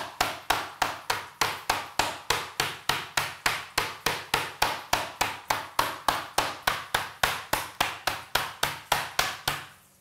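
Meat for a Cuban dish being pounded with a mallet in a home kitchen, a steady run of about thirty sharp, loud thuds at a fast even rhythm, heard alone with no talking.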